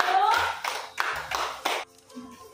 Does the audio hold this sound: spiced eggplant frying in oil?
no